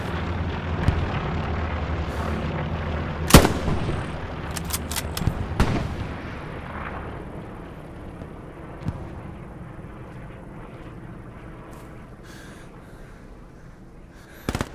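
Distant riflemen firing in Hell Let Loose on the Kursk map, a few sharp isolated rifle cracks spaced seconds apart over a low rumbling battlefield backdrop.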